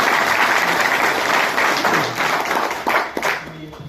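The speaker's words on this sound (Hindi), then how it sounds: "भाई जोरदार तालियां बजाओ।" An audience at a National Safety Day gathering claps loudly for a man being introduced, a dense burst of applause that thins out into scattered claps near the end, with a voice briefly heard over it.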